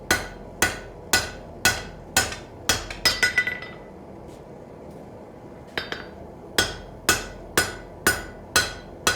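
A hammer forges the bevel of a long blade on an anvil, sharp ringing metallic strikes falling in a steady rhythm, with a quick flurry of lighter taps and a short pause midway before the even blows resume.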